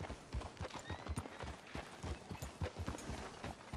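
Horse hooves clip-clop in a steady, brisk rhythm in Red Dead Redemption 2, close and continuous throughout, with occasional faint voices in the background.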